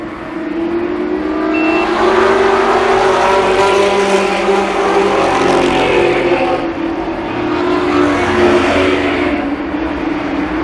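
Race cars in an 8-lap heat race at Columbus Motor Speedway, 1993, a loud continuous roar of several engines revving and droning past, swelling and easing in waves as the pack circles the oval.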